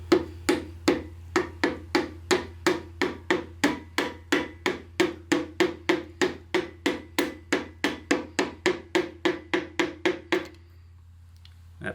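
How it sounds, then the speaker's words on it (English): Steady, evenly spaced knocks from a hammer handle end tapping a piston into a Ford 4000 tractor 172 engine, about thirty sharp close hits in a regular rhythm before stopping, over a low hum. "we'll take the end of a hammer handle,"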